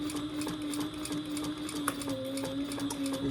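Sewing machine stitching on a nearly empty bobbin, a fast, even mechanical chatter with a steady hum, close and fairly quiet with no talking.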